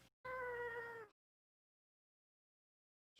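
A house cat gives a single clear meow, fairly loud and close, lasting just under a second before silence, with a faint sound starting at the very end.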